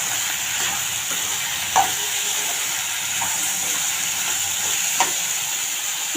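Onion, mixed vegetables and tomato frying in a pan gives a dense continuous sizzle and hiss, with two sharper spatula knocks against the pan standing out, heard close and without talk.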